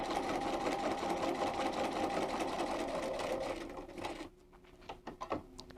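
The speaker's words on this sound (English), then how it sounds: "So I'm going to put it down, line it up on that line, put my presser foot down, and I'm going to sew till I get to letter D." A Bernina 930 sewing machine stitches a 3/8 inch seam with a close, steady loud whirring hum that stops near the end, followed by a few light clicks and handling taps.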